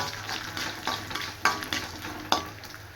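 Mustard seeds splutter and pop in hot oil with cumin, garlic, dried chillies and curry leaves, a soft steady sizzle broken by several sharp crackling bursts, close and fairly quiet, with no talking.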